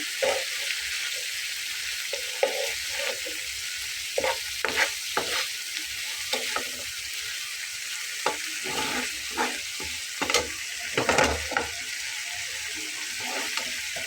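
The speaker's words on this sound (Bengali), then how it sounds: "মাছগুলো আমি বারবার উল্টে দিচ্ছি এটি খুব ভালোভাবে হয়ে যায় কোথাও কাঁচা না থাকে" Loud, steady frying hiss of fish cooking in oil with spiced masala, broken by repeated spatula scrapes and clinks as the pieces are turned, no talking throughout.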